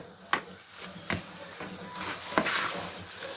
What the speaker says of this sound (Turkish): Şu şekilde biraz karıştıralım.